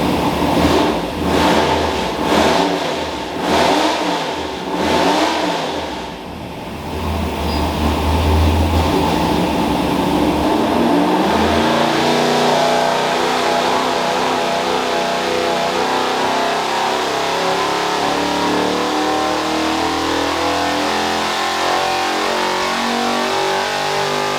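A street-motor car engine revs hard and loud, rising and falling in repeated throttle blips before settling into a sustained roar, with no talking over it.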